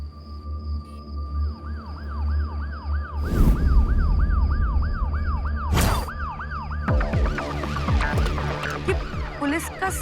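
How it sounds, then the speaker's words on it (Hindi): A police siren wails in rapid up-and-down yelps, with traffic noise and loud whooshing bursts, then shifts into a jumble of horns and sirens. "पुलिस का सायरन"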